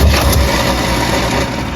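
Engine of a 1984 Corvette after carburetor work, a loud close-up steady rumble that runs unbroken through the brief moment.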